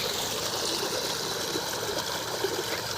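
Water pours steadily from the two-inch delivery outlet of a 900W BLDC motor pump under test, a continuous close gushing and splashing with no talk over it.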